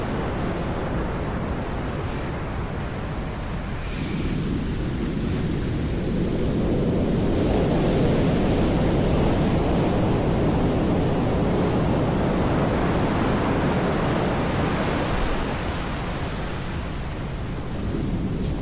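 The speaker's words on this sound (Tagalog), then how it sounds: "Laki ng alon." Big ocean waves crash and roll continuously onto James Town Beach in Accra, Ghana, a loud, broad surf roar swelling through the middle with foamy wash and wind, close by and without talk.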